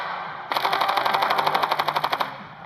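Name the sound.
gunfire in video game Standoff 2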